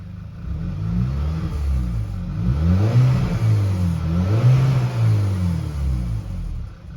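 An Audi A4 B8 engine revs repeatedly during a test drive, a deep mid-pitched rumble rising and falling in several close, loud sweeps.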